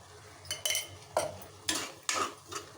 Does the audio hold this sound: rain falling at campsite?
no